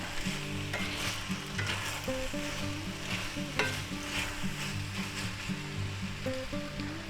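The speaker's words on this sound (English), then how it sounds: "now we're going to add our shrimp. Add our beautiful garlic shrimp." Garlic shrimp hitting a hot pan of vegetable stir fry, giving a steady loud sizzle and frying crackle with stirring and scraping throughout, with no talking.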